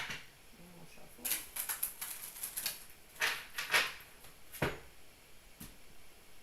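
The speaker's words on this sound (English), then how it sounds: "One more shuffle." Tarot cards being shuffled by hand, a series of soft riffling and flicking bursts of papery clatter, close and moderately quiet, with brief pauses between handfuls.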